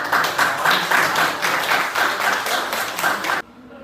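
A class applauding together, steady dense hand clapping held at an even level for over three seconds, then stopping abruptly into quiet room tone.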